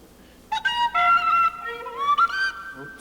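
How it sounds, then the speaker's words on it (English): An Irish whistle played live on stage at a theatre concert, a short run of bright, reedy melodic notes with gliding pitch, fairly loud and alone. "I want to hear what an Irish whistle sounds like"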